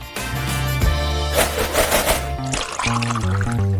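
Fresh orange juice poured into a glass in a food-layer challenge, a steady liquid stream running for a few seconds under loud cartoonish background music.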